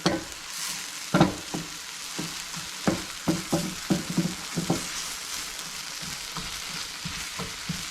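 Alugbati greens being sautéed in a pan with egg added, a steady frying sizzle broken by sharp scraping and stirring knocks from a utensil, close and alone with no talk.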